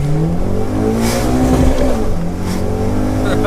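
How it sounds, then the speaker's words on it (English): A modified BMW 116i sleeper revs hard from inside the cabin, its engine note climbing and falling loud and close in a continuous rasp under acceleration. "It revs up like a Type R, doesn't it?"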